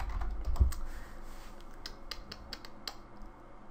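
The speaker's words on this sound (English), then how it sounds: "God, my typing." Quick bursts of keystrokes on a computer keyboard, close and fairly quiet, tapping in uneven runs with brief pauses and a soft thump near the start.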